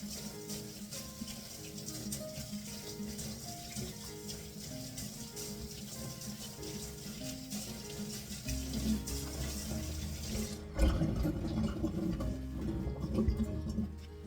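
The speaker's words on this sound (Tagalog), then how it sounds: "Hugasan ko lang siyang maigi, i-brush ko mga kabisdak kasi hindi ko na siya babalatan." A radish being washed and scrubbed with a brush under a running kitchen tap in Korea: a continuous stream of water splashing, which grows fuller and louder near the end as the flow changes.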